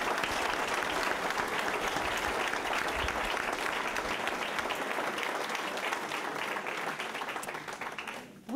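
Audience at a Dryden candidates forum breaks into sustained applause, dense clapping holding steady for several seconds before tapering off near the end.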